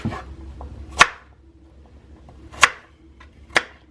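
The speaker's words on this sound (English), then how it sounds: "you're going to go ahead and cut them up into small pieces" A knife chopping peeled sweet potatoes into small pieces on a cutting board, three sharp, close cuts spaced irregularly over a quiet kitchen background with no talking.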